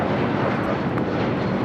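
A United Airlines Boeing 757-200 taking off at LAX produces a loud, sustained broadband engine roar, steady across the whole short stretch with no voices.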